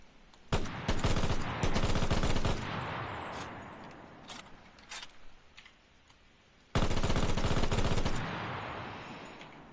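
A bipod-mounted battle pass machine gun in the World War II shooter Enlisted fires two long, very rapid bursts, loud and close, each followed by a fading echo tail and a gap of scattered distant shots.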